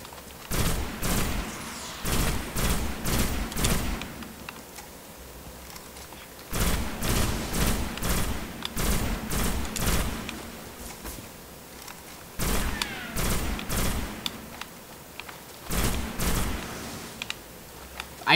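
Gunshots from the Destiny video game, three clusters of loud rhythmic shots that hit close and punchy, each separated by short pauses.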